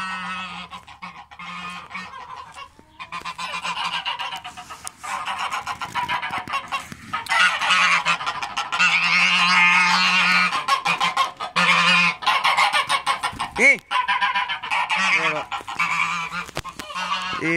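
A flock of geese honking loudly and continuously nearby, overlapping calls forming a noisy, steady chorus with a few harsher squawks.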